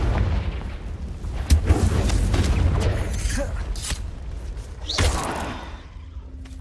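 Confringo fire-spell blasts in the game Hogwarts Legacy land as several loud, booming explosions with crackling debris, over a rumbling battle backdrop.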